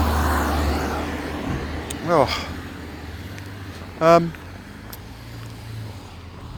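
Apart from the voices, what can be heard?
tractor driving alongside on a country lane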